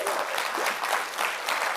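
An audience applauds with a dense, steady wash of clapping that holds at an even level throughout the brief moment.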